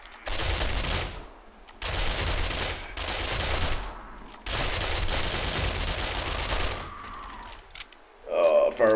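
Submachine gun fire rattles in the 7 Days to Die survival game, with loud close-range bursts broken by short pauses and the speaker's voice heard near the end.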